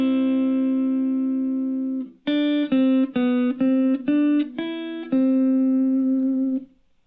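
Electric guitar voiced with an organ effect plays the opening phrase of a song in C: a long held note, a string of distinct stepping notes, then another sustained tone, clean and close.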